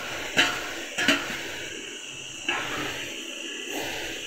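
Shallow-fried okra and thick-cut onions tipped into a cooking pan, a few clattering knocks of utensil on metal followed by a soft sizzle, with no talking.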